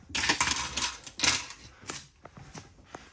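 A set of RV keys, two purple and two silver, rattles inside a 2022 Coachmen Catalina 303RKDS travel trailer. A burst of bright metallic jingling is followed by several lighter clinks, close up and with no voices.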